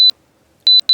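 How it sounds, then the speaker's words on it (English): A fire alarm in a school building gives short, loud, shrill electronic beeps, one alone and then a quick run of three close together, with no talk over it. "I think that is a fire alarm."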